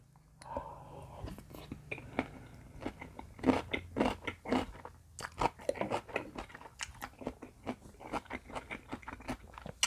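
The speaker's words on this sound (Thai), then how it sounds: "ความที่แบบไข่กุ้งก็จะแบบ แตกป๊อแป๊ะป๊อแป๊ะในปาก" Salmon topped with shrimp roe is chewed close to the mic, with a string of small wet pops and crunchy bites falling in an uneven rhythm, punctuated by soft mouth sounds and quiet breaths.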